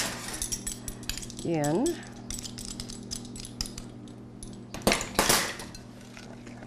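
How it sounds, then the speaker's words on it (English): A spoon scraping and clinking in a pot as light corn syrup is stirred into hot fudge sauce, with a few soft taps and a brief squeak, heard up close beneath a woman's speech. "2 tablespoons of corn syrup. I use light corn syrup. Okay, we're going to stir that"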